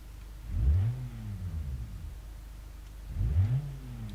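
A car engine in a video game revs up twice in rising sweeps, once early and once near the end, with a steady low engine hum between the bursts and no talking.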